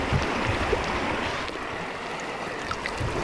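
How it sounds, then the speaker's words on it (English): A running stream rushes steadily nearby, a broad, even wash of flowing water with no voices over it. "It's running water, it's fine."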